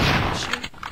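Gunfire from a weapon in the Roblox shooter Call of Robloxia, a dense burst of rapid shots right up close that fades toward a few scattered pops at the end.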